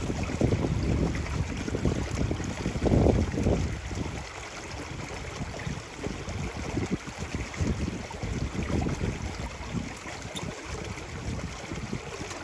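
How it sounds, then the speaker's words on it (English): Water rushes steadily from a water filter's tap, a constant splashing flow with low rumbling, close by and fairly loud throughout. "So I just turn the tap till it opens."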